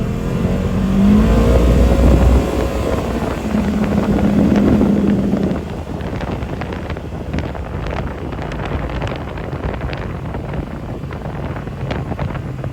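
A 2024 Polaris Expedition XP Ultimate UTV driving along, with a steady engine drone and heavy wind buffeting the microphone, loud and continuous, easing slightly halfway through as the ride carries on.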